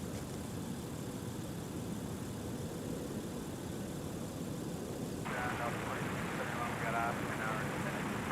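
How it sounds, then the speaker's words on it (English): A WestJet Boeing 737-700 airliner touches down on the north parallel runway at snowy MSP airport in winter, its steady broadband engine roar continuous and moderately loud, with a brighter rise in jet noise partway through. "we got WestJet now, about to touch down on the north parallel."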